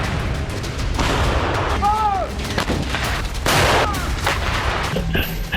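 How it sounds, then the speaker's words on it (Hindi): A British Army tank and gun exercise in sub-zero temperatures in Finnish Lapland near the Russian border brings repeated heavy artillery booms and blasts, loud and rumbling, with faint whistling sounds between the shots. "ब्रिटिश आर्मी फिनलैंड में -डिग्री तापमान में अपने टैंक और तोपों से युद्धाभ्यास कर रही है।"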